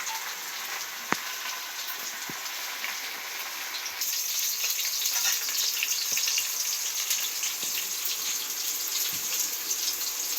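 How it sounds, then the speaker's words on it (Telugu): Onions frying in a pan for chicken gongura pulav, a steady crackling sizzle that grows a little louder partway through, with a few faint clinks. "అంతలోపు ఇక్కడ ఉల్లిగడ్డ గోలుతుంది"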